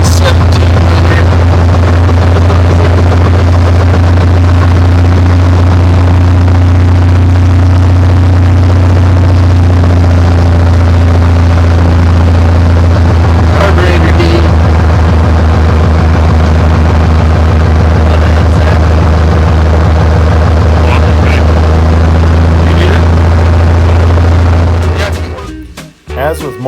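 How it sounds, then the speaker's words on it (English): Loud, steady drone of a small older airplane engine heard from inside the cabin of a ranch plane, with a strong low hum constant throughout before cutting out at the end. "As with most older planes, the inside of the plane was very loud."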